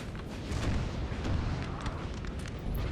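Artillery fire in the battle game Napoleon: Total War, a dense rumbling barrage of overlapping booms and distant cannon blasts rolling on without pause.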